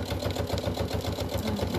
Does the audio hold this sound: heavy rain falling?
no